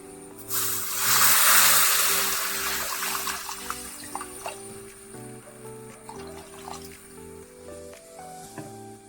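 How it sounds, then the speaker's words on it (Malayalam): Water poured into a hot pan of fish curry masala with mango, a loud rushing splash and sizzle at first that settles into softer trickling and bubbling, with faint background tones. "നമുക്കിതിലേക്ക് വെള്ളം ചേർത്ത് കൊടുക്കാം."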